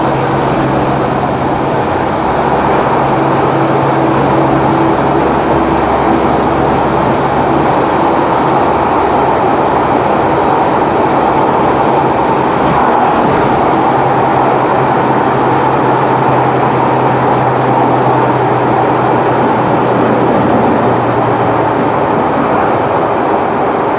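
Train travelling through Wales towards Caerphilly Tunnel, heard from on board: a steady, loud rumble and hum of the carriage running for the whole stretch, with a low drone throughout and no talk.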